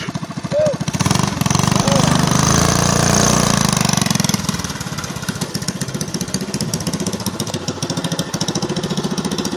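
A modified cyclekart engine on a monocar runs loud and close with a rapid, buzzing engine note. It revs hard for a few seconds, then settles into a steady, choppy idle-like patter. Faint voices can be heard briefly near the start.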